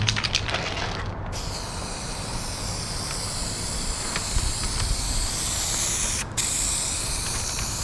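Touch-up spray paint hisses steadily and loudly from an aerosol can while a second coat goes on a car's scratched paint, with a short break near the start and a brief interruption near the end.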